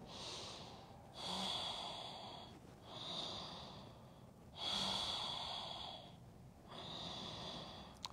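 Long Ujjayi breathing during a yoga practice: four slow, throaty breaths with an ocean-like hiss, each drawn out for a second or more with short pauses between, close and clear with no talking.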